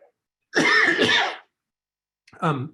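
A man lets out one long, harsh cough up close, then a single shorter cough a moment later, with silence in between.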